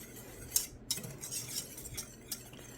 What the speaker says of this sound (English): You can even hear it as I stir it.